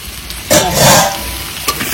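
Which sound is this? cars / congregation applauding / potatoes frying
potatoes frying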